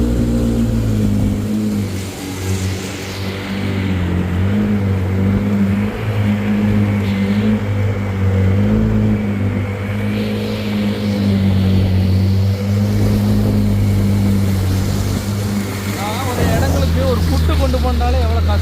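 A vehicle pushing through floodwater near a government hospital, its engine droning low and loud throughout with rising revs and splashing water toward the end, with a voice talking over it.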